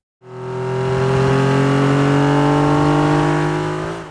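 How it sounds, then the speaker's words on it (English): A car's engine and exhaust rev up in one long, loud, close burst, the tone climbing and holding steady before easing off at the end, with no talk over it. "Exhaust and engine sounds are really the core of the vehicle's audio"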